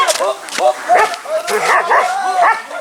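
A hungry dog whimpers and yips in short bursts, close by, with people talking over and between its cries in a rural Maithili-speaking home.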